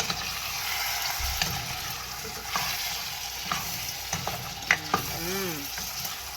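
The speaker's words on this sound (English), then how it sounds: "Let's try to stir up." Okra and callaloo frying in a pan while being stirred, with a steady sizzle broken by scraping strokes and a few clinks of the utensil near the end.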